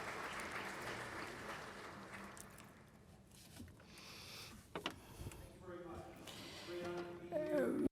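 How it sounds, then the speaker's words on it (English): Applause from a conference audience at a talk on globalization and free trade, a dense patter of clapping that fades down and then swells again toward the end, heard fairly far off in a large room. "A big round of applause for him as well."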